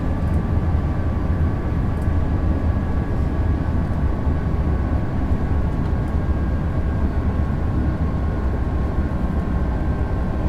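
An ICE 3 high-speed train on the Köln to Aachen line in Train Sim World 2 produces a constant loud rumble of running gear and traction, with a faint steady tonal whine over it.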